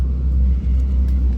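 A Firebird engine idling with no exhaust fitted, a deep, raw, unmuffled rumble, steady and loud throughout with a brief dip midway.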